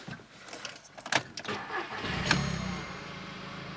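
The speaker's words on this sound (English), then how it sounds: "That's the way a car should start." A 2nd-generation Audi TT engine cranks briefly after a bad earth fault is bypassed, then catches and fires up loudly, settling into a steady idle close by.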